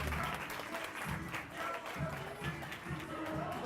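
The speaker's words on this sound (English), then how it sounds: "Can we give the rest of them a round of applause as they head back to their seats?" Moderate audience applause at a school leadership event as participants return to their seats, uneven and fairly soft, with scattered claps and a murmuring crowd underneath.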